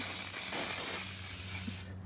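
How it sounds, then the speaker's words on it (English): An aerosol can of extreme hold hairspray sprays in one continuous, close hiss for nearly two seconds, then cuts off abruptly. "It's just a extreme hold hairspray, and hairspray is tacky, so I'm going to spray"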